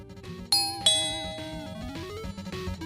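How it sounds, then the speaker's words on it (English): A two-tone doorbell chimes once, ding then dong, ringing out clearly over faint background music. "The doorbell ringed and I went to open the door."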